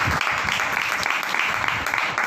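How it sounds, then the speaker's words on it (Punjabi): A church congregation in Punjab claps in thanksgiving during a birthday blessing: a dense, sustained round of many hands clapping, steady and fairly loud throughout. "ਆਓ ਅਸੀਂ ਪ੍ਰਭੂ ਦਾ ਧੰਨਵਾਦ ਤਾਲੀ ਵਜਾ ਕੇ ਕਰਦੇ ਹਾਂ।"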